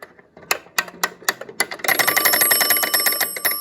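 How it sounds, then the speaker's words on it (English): An antique clock is wound and its spring catches and slips, giving a series of sharp metallic clicks that turn into a dense, continuous jangling ring with bell-like tones, close and fairly loud, with no talking. "if you'll listen closely when I wind it, you'll hear it will catch and then miss and catch and then miss"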